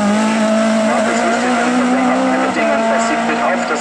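Race cars roar up a hill climb course at Eichenbühl, Lower Franconia, including a VW Golf and a BMW E30, with a loud, steady engine drone holding a sustained pitch throughout and a voice faintly under it.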